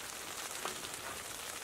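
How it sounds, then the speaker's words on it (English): Rain falling outdoors in the wilderness, an even, continuous hiss of drops pattering on surfaces nearby, steady in loudness with no voices. "I'm gonna sit here in the rain"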